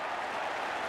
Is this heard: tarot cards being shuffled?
no